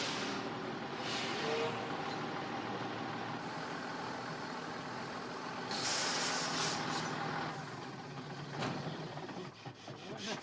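Military vehicles arrive in a column and pull up, with a steady engine rumble and air brakes hissing, a sharp release around the middle and further hisses near the end.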